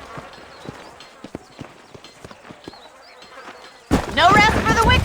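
Horse hooves clip-clop in Red Dead Redemption, a run of separate thuds at a moderate pace, then louder game sound swells over them near the end.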